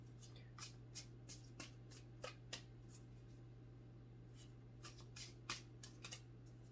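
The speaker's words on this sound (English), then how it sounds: "How to shuffle cards properly" Soft, intermittent riffling and flicking of tarot cards being shuffled, faint and close, over a low steady hum with irregular bursts of papery snaps.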